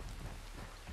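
Steady rain with rumbling thunder in the Red Dead Redemption 2 game world, a dense continuous downpour with low booming rolls underneath, close and fairly loud, no voices.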